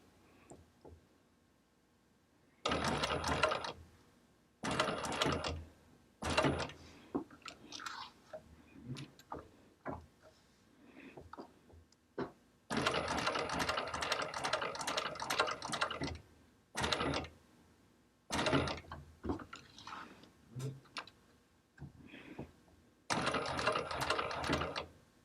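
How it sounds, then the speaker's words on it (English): A sewing machine stitches slowly in short, separate bursts over about twenty-five seconds, each run of rapid mechanical ticking stopping and restarting, close and fairly quiet, with hushed pauses between. "this is actually how slow I actually go when I'm sewing all the time"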